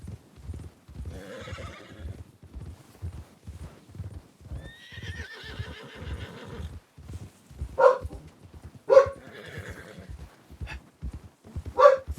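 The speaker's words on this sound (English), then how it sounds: "Freaking dog." Several sharp, loud dog barks in the RedM video game, heard near the end over steady horse hoof clip-clops and an occasional whinny while riding.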